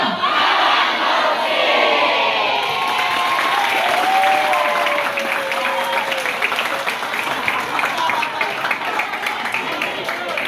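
Students at SMK Negeri 40 Jakarta applaud together, a dense, steady clapping crowd filling the room for about ten seconds, with a voice talking over the applause throughout.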